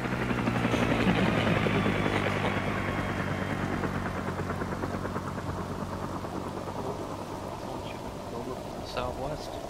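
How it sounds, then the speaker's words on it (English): An aircraft engine drones overhead during a Vietnam-era military operation, a loud rumbling roar that peaks early then slowly fades over nearly ten seconds, mixed with a rain-like wash of noise. "It's airplane."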